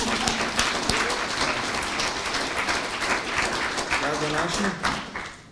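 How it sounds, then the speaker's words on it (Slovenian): An audience at a conversation event on a Slovenian cultural holiday gives a sustained, dense round of applause lasting several seconds before tapering off at the end. "dajmo zaploskati še nekaj"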